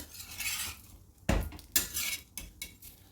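A cabbage paratha flipped on a hot griddle over a low flame, with sharp metallic spatula scrapes and clinks against the pan in a few distinct strokes, close and fairly loud, with no talk.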